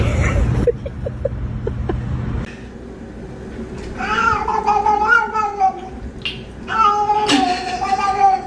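A cat shut in a kennel gives two long, drawn-out yowls after some early clattering, with low background noise throughout.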